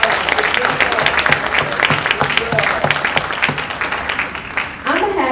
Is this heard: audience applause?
yes